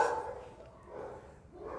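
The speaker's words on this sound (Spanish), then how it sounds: "Es que luego hay un güey que pasea un perro aquí." A dog barks outdoors at a distance, a few faint, muffled barks spread over a couple of seconds against low background noise.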